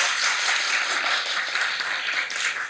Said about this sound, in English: Give yourself a big applause.